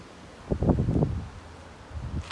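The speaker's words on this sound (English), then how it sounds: "Very windy." Gusty wind buffets the microphone in a low, rumbling surge that rises and fades, with a faint rustle of leaves behind it.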